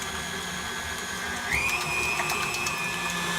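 A blender runs on a low setting beating eggs for a German pancake, giving a steady whirring motor hum that rises in pitch partway through and then holds.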